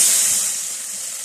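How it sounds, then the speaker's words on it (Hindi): Garlic ginger paste hitting hot oil in a pan for aloo matar gajar sabzi gives a brief, bright steamy hiss that fades quickly, close up. "अब इस स्टेज पे हम इसमें जो लहसुन अदरक की पेस्ट है वो डाल देंगे। थोड़ा सा फ्राई करेंगे"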